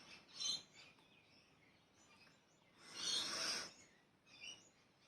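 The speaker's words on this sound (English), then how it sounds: "Shut the fuck up, birds." Small birds chirping outdoors in short, bright bursts of high calls, a few separate clusters over several seconds, faint and fairly distant against quiet background.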